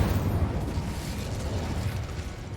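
A fire spell, Incendio, cast in Hogwarts Legacy gives a dense, steady rumbling whoosh that holds loud and unbroken, with a low roaring burst running throughout.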